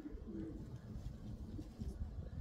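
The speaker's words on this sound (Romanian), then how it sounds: "Și un porumbel care hârcăie așa și face așa" A sick pigeon with a respiratory illness coos softly in low, throaty, wheezing murmurs, close by and quiet, with faint background hum.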